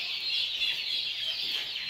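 Barnyard mixed chickens and hens cluck softly nearby, a short run of chattering, overlapping clucks lasting under two seconds.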